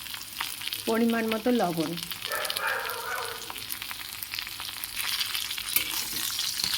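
Potatoes and pointed gourd fry in a pan with a steady close sizzle and scraping stirs. Someone speaks briefly near the start over the frying.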